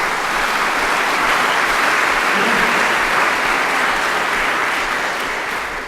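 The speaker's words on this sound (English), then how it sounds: "give yourselves a round of applause for that type of effort" Faculty and staff at a fall address applaud themselves, a loud, sustained wash of dense clapping from a large audience that holds steady and then eases slightly toward the end.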